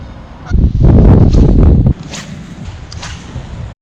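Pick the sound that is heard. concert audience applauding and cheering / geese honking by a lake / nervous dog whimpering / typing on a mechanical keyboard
geese honking by a lake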